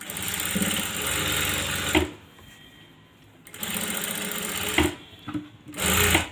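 A sewing machine stitches close along a fabric edge while a neckline is sewn, making loud rapid mechanical whirring in two bursts separated by a quiet pause, with a short final run.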